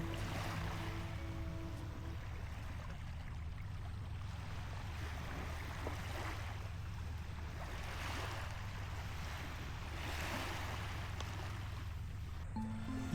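Soft, steady wash of sea waves along the shore at Muuido island off Korea's west coast, faint and continuous with gentle swells and no voices.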